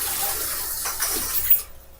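Water runs from a tap in a steady, fairly close gushing flow for a moment before cutting off near the end.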